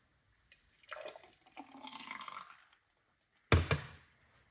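Thick juice drink pours out in two short bursts of splashing liquid separated by quiet, the second louder and closer.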